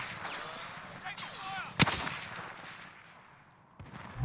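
Gunfire in the Warzone battle-royale video game, with a single sharp, loud burst near the middle of the clip over busy game ambience and background sounds.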